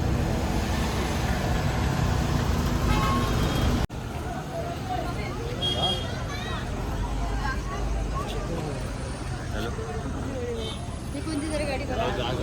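Vehicles stuck in a jammed road during Ganesh immersion festival traffic create a dense, continuous rumble and hum. Voices chatter nearby, and the sound drops abruptly partway through.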